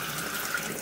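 Hot water running from a tap to rinse rust-cleaned pinball machine legs, a short, steady hissing rush of flow close by with no talk.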